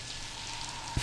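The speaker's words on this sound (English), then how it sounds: "Hey, let's get out of this rain." Steady rain pours in a video game, a constant hiss of falling water under a faint tonal hum, with one brief low thump right at the end.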